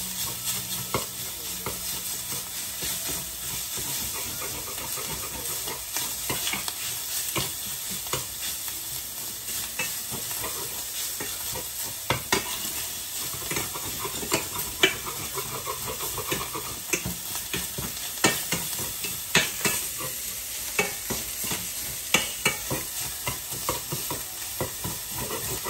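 Eggs sizzle and fry in a hot pan while a utensil stirs and folds them, a steady close crackle with frequent scraping strokes throughout, no talking.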